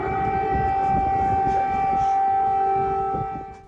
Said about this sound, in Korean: 현지 시간 5일 우크라이나 수도 키이우에 또다시 공습 사이렌이 울려 퍼졌습니다.